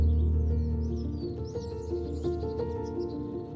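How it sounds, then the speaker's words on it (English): Birds sing and chirp outdoors on a Scottish island, light twittering calls over a low steady rumble of wind or machinery in the background. "you're kind of drowned out by birds"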